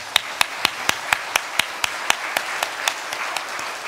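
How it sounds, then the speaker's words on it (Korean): Rhythmic unison clapping from a church congregation at a Thanksgiving and church anniversary service, about fifteen sharp, evenly spaced claps, fairly close and clear, slowing and softening slightly toward the end. "우리 온 마음을 다하여서 우리 감사의 박수 올려드리겠습니다"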